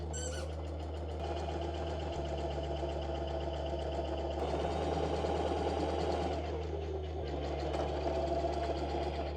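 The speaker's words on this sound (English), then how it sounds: "So let's go over to our sewing machine." Sewing machine running a straight stitch through cotton bandana fabric, a steady close motor whir with rhythmic needle clatter that continues without pause, heard alone.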